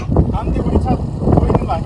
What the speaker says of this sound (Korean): 안 들려 바람 소리 때문에